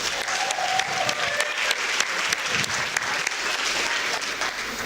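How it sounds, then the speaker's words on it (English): Audience at a product-development talk breaks into loud, sustained clapping, a dense steady wash of many hands with crisp individual claps throughout and no talking over it. "Let's give them a huge applause."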